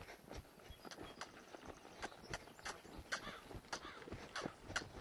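Horse hooves thud across trail ground at a rhythmic lope, a steady series of sharp, fairly close clip-clop beats over faint outdoor background noise.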